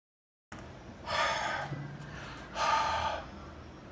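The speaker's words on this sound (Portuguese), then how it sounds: "Nem mesmo eu soprando de perto, ele embaçou" Breath is blown from close range onto eyeglass lenses coated with bar soap, heard as two soft, airy puffs about a second apart after a short silence, close to the microphone.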